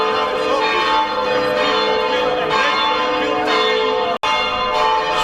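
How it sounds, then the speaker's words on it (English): Loud church bells ring continuously in the old town of Split, Croatia, their overlapping tones filling the air with a dense, resonant clangour. "I don't know if you can actually hear me above the noise from the bells."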